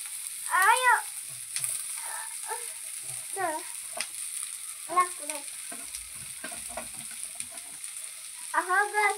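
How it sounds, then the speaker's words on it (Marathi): Onion fries in a pan for a village-style egg curry, a steady hiss of sizzling oil running under intermittent high chirping tones and soft clicks. "कांदा पण जरा लालसर होईपर्यंत आपल्याला भाजून घ्यायचं"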